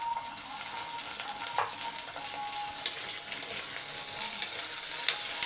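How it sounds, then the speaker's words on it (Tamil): Small whole brinjals, slit into quarters, sautéing in hot oil alongside onions and tomatoes for oil brinjal kuzhambu, giving a steady close sizzle with occasional stirring scrapes and no talk. "குட்டி குட்டி கத்திரிக்காய் அப்படியே போட்டு வதக்கிக்கலாம்"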